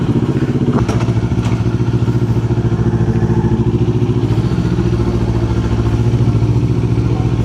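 A Kawasaki Z400 motorcycle engine drones steadily and loudly while riding, with a rapid rhythmic rumble and rattling clatter throughout.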